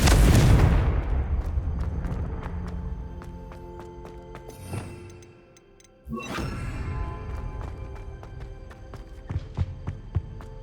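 Fire-spell explosions from the Hogwarts Legacy video game: a loud booming blast at the start decays into crackling debris, then a second burst hits around the midpoint, followed by scattered sharp impacts and rumbling with no talk.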